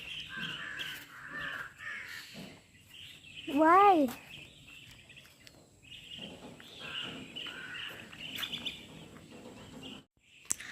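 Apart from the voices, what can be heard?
many birds calling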